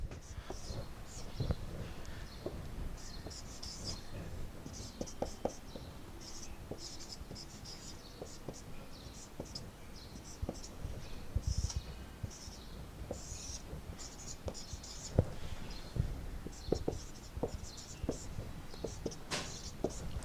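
A pen scratches on paper while working through algebra factorisation problems, with soft, irregular strokes and taps continuing steadily under faint, quiet talking.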